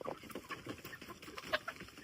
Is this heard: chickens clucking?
yes